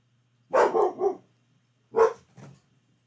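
A dog barks in two short bursts, a quick run of barks followed by a pause and then another pair, loud and close against a quiet room.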